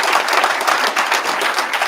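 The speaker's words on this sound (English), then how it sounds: "Give yourselves a round of applause." Graduation ceremony audience applauding, a dense, steady wash of many hands clapping at close range for the full stretch, with no voices standing out.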